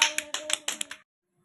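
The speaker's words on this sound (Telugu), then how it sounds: "క్లాప్స్ కొట్టండి అందరూ" Young children clapping in an anganwadi classroom, a quick run of about eight sharp, close, uneven claps that stops abruptly, leaving silence afterward.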